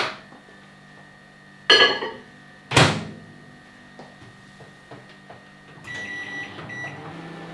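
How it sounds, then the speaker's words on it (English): Microwave oven hums quietly while heating a bowl of tare seeds in water, with a couple of sharp clunks from the door or bowl and a brief beep close by. "Fill your microwave with like stinky tare juice."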